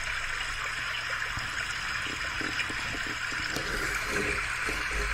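River water from an ambient noise app flowing in a steady, even rush with a soft trickling texture, moderately loud and continuous, with faint clicks and tapping near the middle.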